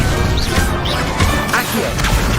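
Levioso levitation spell cast in Hogwarts Legacy on PS5, a dense, loud burst of magical effect with crashing, whooshing layers sustained over a couple of seconds amid busy game sound.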